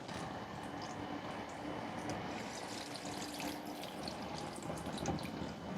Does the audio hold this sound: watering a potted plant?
yes